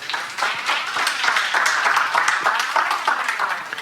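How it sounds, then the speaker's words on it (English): Conference audience claps for a speaker at a WordPress talk, a dense burst of many hands close by, loud and steady for several seconds with slight swells and no speech. "An applause, please."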